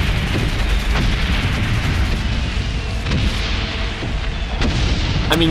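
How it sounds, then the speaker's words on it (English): Artillery shells from the WWI video game Valiant Hearts: The Great War boom continuously in the background, a dense rumbling barrage with repeated heavy thuds and a sharper blast near the end. "those artillery shells booming in the background there."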